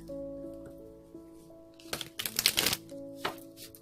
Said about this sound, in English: Another shuffle, they said.